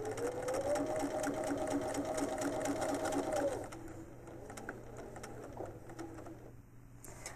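APQS longarm quilting machine stitching a quilt binding, a fast rhythmic mechanical whir of needle strokes for a few seconds, then quieter clicks and handling.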